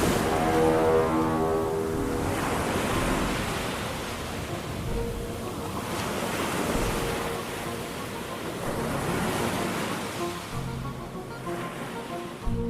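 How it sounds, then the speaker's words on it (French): Sea waves wash against a moving boat's hull in a steady rushing surge that swells and eases in slow cycles, with a low hum beneath and wind noise on the microphone, no voices. "La coque du bateau découpant les vagues"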